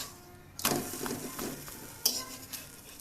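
Close frying in a pan while making Bengali gola roti with vegetables: a soft sizzle with a few sharp scrapes and clinks of a spatula stirring the food.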